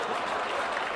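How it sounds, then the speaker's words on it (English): Comedy show audience breaking into applause: a brief, steady burst of many hands clapping together from a seated crowd, heard alone without speech. "That's an applause break."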